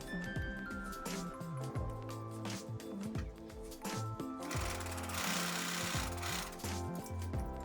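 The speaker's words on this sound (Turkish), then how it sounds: "Düz düzden bir dikiş dikip tekrar arkaya çevirip bir de buradan dikeceğiz." A sewing machine stitches fabric for a pillow, giving a rapid, continuous mechanical chatter with rhythmic clacking. It is close and moderately loud, sometimes speeding up and easing off, with no talking.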